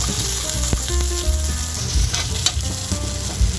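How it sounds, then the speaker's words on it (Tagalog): Garlic already browned and freshly added onion fry loudly in hot oil while being stirred, giving dense close sizzling with repeated utensil scrapes and knocks against the pan. "Kaya lagay na natin yung ating sibuyas."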